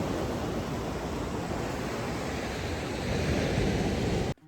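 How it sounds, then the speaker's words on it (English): Ocean waves on a Gold Coast beach make a steady, loud wash of surf mixed with wind noise, rising slightly toward the end before cutting off abruptly. "It drowned out the waves."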